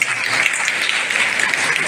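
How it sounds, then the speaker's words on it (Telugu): Applause from an audience at an Onam celebration held by a Malayali welfare association in Nellore, a dense crowd clapping steadily and continuously at moderate volume with murmuring voices underneath. "అధ్యక్షుడు గోపి గారికి చప్పట్లతో వారికి జ్ఞాపిస్తున్నాను"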